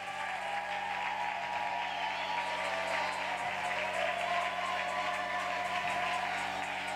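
A church congregation at a sermon applauds and cheers in a sustained, even wash of clapping that fills the room for the whole stretch.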